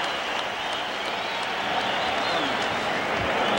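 A boxing arena crowd applauds and cheers steadily as round 5 ends, with dense, continuous clapping and crowd noise.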